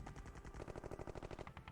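Rapid machine-gun style gunfire from a cannon unit under attack in the Civilization II strategy game on a classic Mac, a dense, steady burst of shots running without pause.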